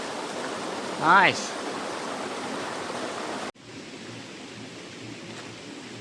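Steady broadband rush of a stream and waterfall deep in a Japanese forest, loud and continuous, with a brief spoken word early on before the water drops to a quieter, more distant wash.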